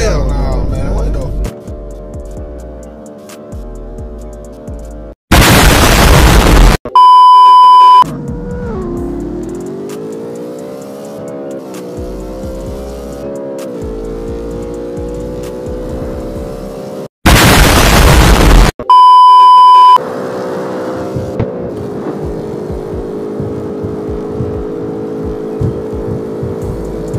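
A Dodge Charger SRT Hellcat racing in CarX Street, its engine droning and climbing in pitch as it accelerates through gears, broken by two loud crashing bursts, with someone talking over parts of it.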